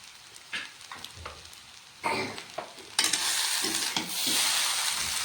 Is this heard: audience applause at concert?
no